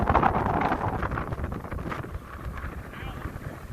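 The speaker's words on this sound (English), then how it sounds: "A little bit breezy out here today. Probably blowing 25." Strong wind at about 25 blows across a lake during bass fishing at Back Bay, Virginia, buffeting the microphone in loud, gusty rumbles that ease slightly over the clip, with a voice faintly under it.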